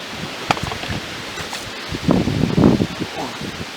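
Wind gusts outdoors buffet the microphone with a steady rumbling rush and louder bursts of blowing noise, around an old Allis Chalmers M tractor, with no clear talk.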